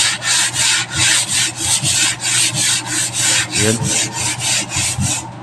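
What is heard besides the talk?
sandpaper sanding a wooden cabinet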